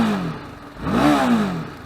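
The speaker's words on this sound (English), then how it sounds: "Revs pretty well, very rev happy motorcycle." TVS Apache RR 310 motorcycle engine at a stationary sound check, a single quick rev that climbs and falls back to idle, close and fairly loud with no talk.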